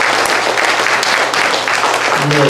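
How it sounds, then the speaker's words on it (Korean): Steady applause of thanks from a church gathering, with standing officers clapping for visiting pastors, loud and continuous throughout the short stretch as a voice speaks over it. "임원들 다 그 자리에 일어나서 한번 박수 한번 주세요"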